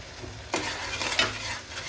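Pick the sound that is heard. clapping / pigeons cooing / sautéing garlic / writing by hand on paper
sautéing garlic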